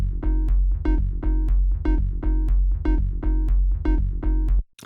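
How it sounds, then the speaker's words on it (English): An unprocessed sub bass line from a hypnotic techno track, a pitched version of a DYAD synth line, pulsing in steady repeated notes about every third of a second with strong low rumble and bright upper harmonics, loud and alone, cutting off abruptly at the end. "So without processing, my sub sounds like this."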